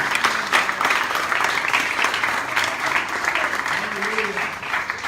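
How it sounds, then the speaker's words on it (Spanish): A crowd claps steadily in a sustained round of applause at a Spanish-language church sermon, with a voice speaking over it. "Denle un aplauso al Rey de Reyes y Señor de Señores."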